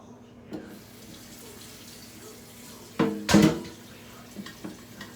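A tap briefly gushes water into a metal pot, a short splashing rush in an otherwise quiet kitchen with a few soft knocks.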